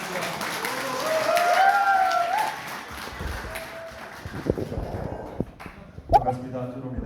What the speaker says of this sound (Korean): 큰 박수로 맞이해 주시기 부탁드리겠습니다.